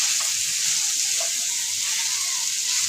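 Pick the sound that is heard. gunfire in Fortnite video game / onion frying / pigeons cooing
onion frying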